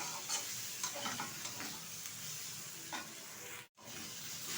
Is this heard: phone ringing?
no